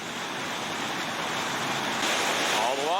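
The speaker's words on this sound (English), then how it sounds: "All the water comes over the river left here and forms this churning hole." Loud, churning whitewater roars steadily from the river rapids at Gap Falls, where water pours over river left into a churning hole on a class 4 run, and a faint whistling tone rises near the end.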